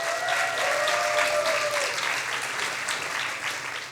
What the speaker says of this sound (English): Great applause, great applause